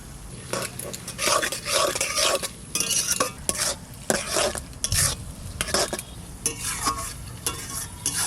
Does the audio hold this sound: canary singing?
no